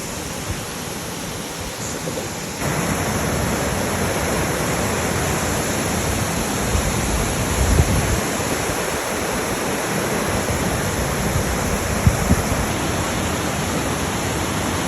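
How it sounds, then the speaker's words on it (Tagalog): Ladsudan Falls in Barangay Pasig, Igbaras, Iloilo, pours in a steady, full roar of falling water that fills the whole stretch without pause, loud and close. "Ladsudan Falls located Barangay Pasig, Igbaras, Iloilo"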